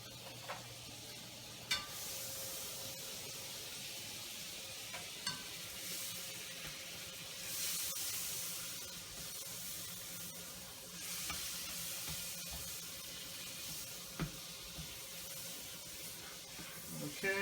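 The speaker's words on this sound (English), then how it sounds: "I'm going to come over here to this hot pan and I'm going to melt some butter in it." Butter melts in a hot pan on the stove for shrimp fettuccine, giving a steady soft sizzle and hiss with a few clinks, close by and with no talking over it.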